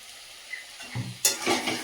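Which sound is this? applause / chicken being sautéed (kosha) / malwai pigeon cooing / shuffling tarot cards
chicken being sautéed (kosha)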